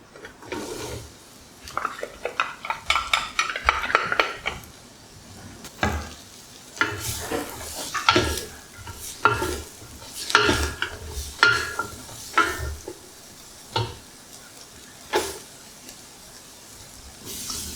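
Red onion frying in cooking oil for a Thai spicy pumpkin soup. A spatula scrapes and stirs over a soft sizzle, with irregular wooden rasping strokes, close up and with no talking.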